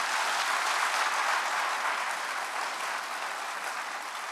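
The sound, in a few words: audience applause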